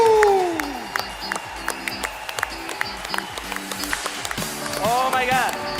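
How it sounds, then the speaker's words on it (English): A conference audience bursts into applause with scattered claps and cheers, while a presenter speaks loudly over it on an amplified system and music swells toward the end. "we're gonna be giving you a big round of applause"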